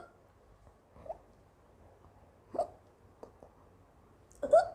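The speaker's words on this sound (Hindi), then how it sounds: "हिचकी अभी ब्रेक ले लेके आ रही है" A girl hiccups several times at irregular intervals, each a short sharp catch in the throat, close and fairly loud against near silence.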